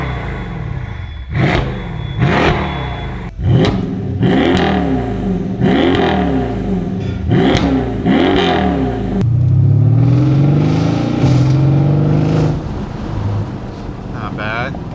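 A Mercedes S63 with a stainless steel exhaust revs repeatedly in sharp rising blips, followed by a deep sustained rumble, loud and close with wind buffeting the microphone.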